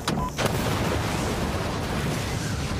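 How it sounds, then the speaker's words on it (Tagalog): A bomb explosion sound effect: a loud, sustained roar of blast rumble that fills the whole moment, with a sharp burst at the start and heavy low-end noise throughout. "Isang malakas na pagsabog ang naganap."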